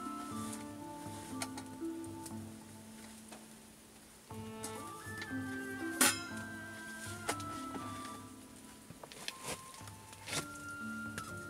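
Lightweight camping cook kit pots clink and tick softly as they are unwrapped from a dish towel, a run of small metallic knocks and one sharper clang near the middle, close and fairly quiet.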